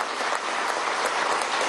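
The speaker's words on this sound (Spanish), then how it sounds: "Vamos a darle un aplauso." Dense, even applause from a large crowd at a bank anniversary celebration in Caracas, a continuous wash of clapping with no pauses.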